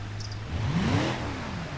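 A car engine revs up from idle in the driving game BeamNG.drive, pitch climbing through first gear before easing off into a steady hum.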